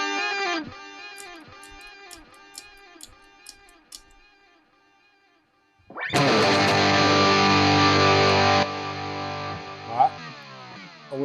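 Electric guitar notes with repeating delay echoes, then a sudden thick, distorted wash of sustained tone with long reverb tails.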